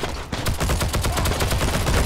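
Gunfire in the World War II shooter game Heroes & Generals, a loud, rapid burst of automatic shots close by, continuous after a brief gap near the start.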